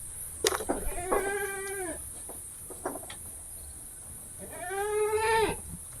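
Goats during mating bleat in drawn-out wavering calls, two prominent cries separated by quieter sounds and a few short grunts, heard at moderate distance over faint background hiss.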